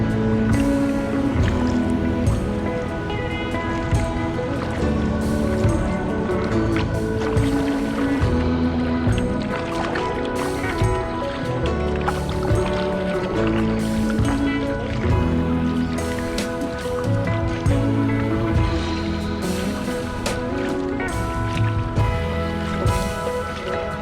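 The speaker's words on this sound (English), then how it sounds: "That's a lot of water coming at me here in a very narrow part of the river." River water rushes and splashes against a canoe in a narrow stretch of the river near Ottawa, a dense, continuous, close wash of churning water with intermittent sloshing against the hull.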